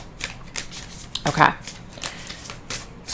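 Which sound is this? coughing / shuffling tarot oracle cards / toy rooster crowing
shuffling tarot oracle cards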